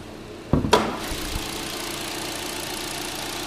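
The 1.8 liter naturally aspirated engine of a 2014 Chevy Cruze, heard under the open hood, gives a sharp clunk or two and then settles into a steady, even idle hum.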